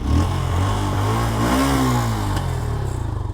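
A used motorcycle at a large bike market in Dhaka revs hard up close, its engine note climbing and falling in one loud, continuous burst.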